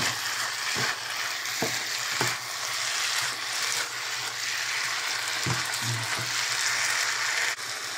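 Chicken gnocchi with garlic powder being stirred in a frying pan, a steady close sizzle with occasional scrapes and clinks of the utensil against the pan, no talking.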